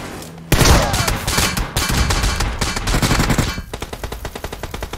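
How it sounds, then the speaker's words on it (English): Heavy gunfire in PUBG Mobile during a double barrel shotgun fight, loud close blasts in a dense volley, then a steady rhythmic series of evenly spaced shots trailing off, with no talking. "Double barrel shotgun!"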